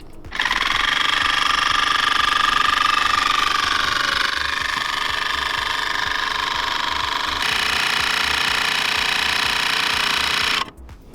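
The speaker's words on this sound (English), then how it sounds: "that noise is obviously it building up the 16 bar of pressure" Handpresso Auto 12V in-car espresso machine with its pump building 16 bar of pressure: a loud, close, steady mechanical buzz starting abruptly, pitch easing slightly over about ten seconds before cutting off.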